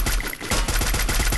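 Gunshots in Garena Free Fire: bursts of automatic fire in quick succession, loud and near, with no talk over them.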